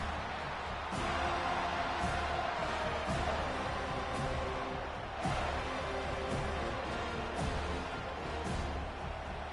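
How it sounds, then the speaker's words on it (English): A packed college football stadium crowd at a Florida State game sends up a steady, dense roar that swells slightly now and then, with no clear voices standing out. "this crowd trying to help keep them there"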